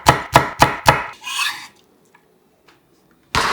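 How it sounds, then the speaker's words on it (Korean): A knife chopping a green chili finely on a cutting board: four quick, crisp chops in a steady rhythm, a short scrape, near silence, then another burst of cutting at the end, close and without speech. "쫑쫑 작게 썰어줍니다."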